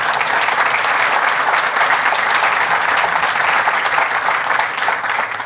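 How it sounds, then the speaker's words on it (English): Audience at a 2022 mayoral candidate forum claps loudly and steadily, a dense, sustained wash of many hands filling the room throughout. "If you all want to clap, that's quite all right."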